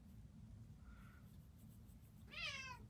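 A house cat gives one clear meow, close and moderately loud, against a quiet, steady background hum. A faint, brief higher sound comes before it.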